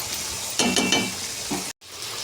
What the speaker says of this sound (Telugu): ఇందులోనే రైస్ కూడా వేసుకొని 2 minutes ఫ్రై చేసుకోవాలి.